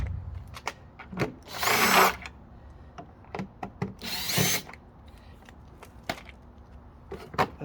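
A power drill removes the rear spoiler screws on a Rosso go kart: two short whirring bursts amid clicks and plastic knocks, close up with no talking.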